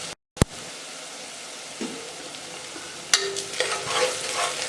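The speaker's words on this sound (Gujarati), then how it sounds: "તેલ બધું છૂટું ન પડે ત્યાં સુધી ડુંગળીને આમાં સાંતળવા દેવાની" Onions sautéing in oil for a Gujarati chole masala, giving a steady soft sizzle with occasional spoon stirs and scrapes that grow busier toward the end, close up and with no talking.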